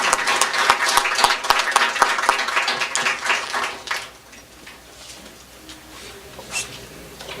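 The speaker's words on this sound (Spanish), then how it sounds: "Entonces recibamos un aplauso al doctor Kraevich." An audience at the First Peruvian Crystallography Congress claps for a speaker. Dense, close applause lasts about four seconds, then thins to a few scattered claps and the quiet of the room.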